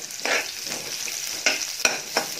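Onions sautéing in a hot pan for a home-cooked mushroom and vegetable stir-fry in oyster sauce, with a steady sizzle broken by a few sharp scrapes and stirs of the spatula.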